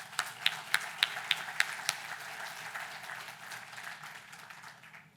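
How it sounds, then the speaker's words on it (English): Applause at an anniversary gathering, opening with a few sharp distinct claps that grow into a moderate, fairly faint round of clapping from a modest crowd, fading out at the end. "we want to give them a great round of applause"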